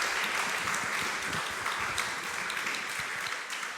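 Audience applause after presentations at a French conference on neurodegenerative disease research, a steady wash of many hands clapping that holds at an even level throughout, with no speech over it.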